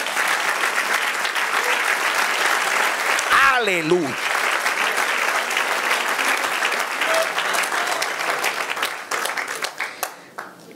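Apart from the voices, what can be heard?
congregation applause to the Lord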